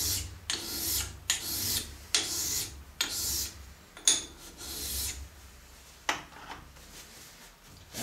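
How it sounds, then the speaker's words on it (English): A stone, wetted with WD-40, rubs back and forth over a cast iron angle plate in a series of close, gritty, rasping strokes, about nine of them, each separated by a short pause. "I'm wetting the stone with some WD-40 so it stays clean from the grinding, from the cast iron dust"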